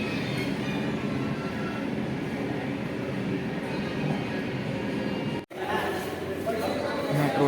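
Inside a moving Delhi metro train at sunrise: a constant rolling rumble and rail hum fills the cabin, with a brief dropout near the end, while a person talks over it.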